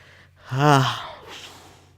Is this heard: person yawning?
yes